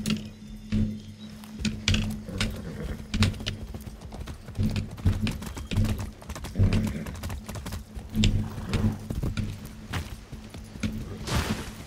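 Horse hooves clip-clop steadily in Far Cry 6, a brisk regular trot of sharp hoof knocks running throughout over a low steady game hum.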